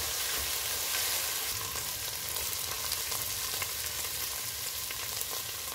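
Spices with white pepper powder and crushed black pepper roast in a pan for malai boti biryani, giving a loud, steady, close sizzle with a constant crackling hiss and no voices.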